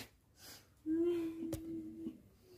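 A dying man's labored breathing rattles and wheezes: a drawn-out, strained snore-like tone that holds for over a second, broken by one sharp click, close and fairly faint in a quiet room.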